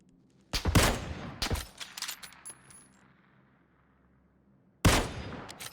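Gunfire in PUBG on the Sanhok map: two loud, close bursts in quick succession, then a lull with faint rumbling before a third sharp burst near the end.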